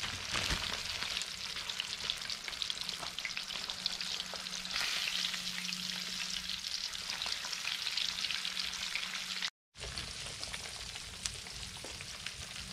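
Crappie fillets deep frying in grease at about 350 to 375 degrees give a steady, close, dense sizzle and crackle that runs throughout, with one brief dropout near the end.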